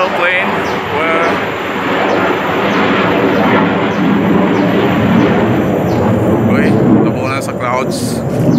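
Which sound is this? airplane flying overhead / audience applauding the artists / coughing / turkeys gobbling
airplane flying overhead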